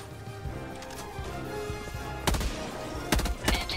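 Shotgun blasts in the game Helldivers 2, a few loud sharp bangs over a busy background of combat noise, with scattered fainter shots and no talk.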